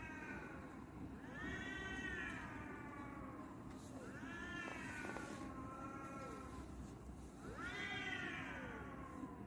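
Several cats meow and yowl in long rising, wavering cries, three main calls spaced across the clip, over a steady background hum, somewhat distant.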